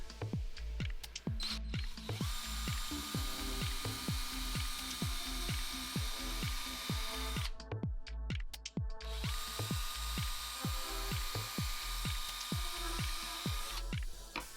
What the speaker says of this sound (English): I'm going to drill diagonally along the shoe